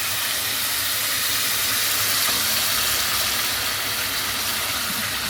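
Hot boiling water is poured into cooking dirty rice, giving a steady, even hiss and rush of water that runs without a break from start to finish.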